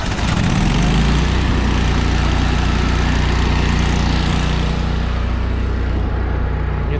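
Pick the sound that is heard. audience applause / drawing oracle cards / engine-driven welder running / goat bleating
engine-driven welder running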